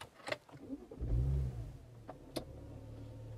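A BMW E92 335i with the twin-turbo N54 engine cranks and fires up, a short starter whir leading into a loud rising rev that settles back to a steady idle, heard close by with no talking.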